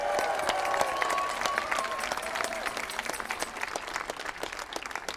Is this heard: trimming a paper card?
no